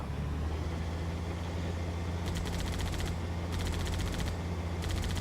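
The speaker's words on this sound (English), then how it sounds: "This is the Scorpion. I forget its full name, but it's a tank." A Scorpion tank from Halo 2 rolls through the Metropolis level, its engine a steady low droning rumble, broken by several bursts of rapid machine-gun fire overhead.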